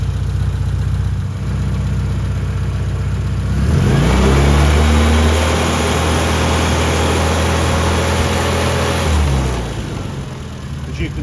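A car engine idles steadily, then revs up and holds at higher RPM for several seconds before dropping back toward idle, loud and close.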